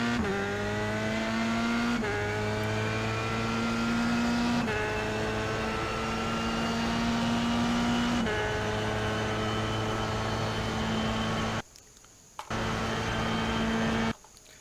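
Formula 3 race car at Suzuka, heard onboard: the engine climbs in pitch through repeated upshifts, then drops through sharp downshifts, loud and close, with a brief cut near the end and no talk.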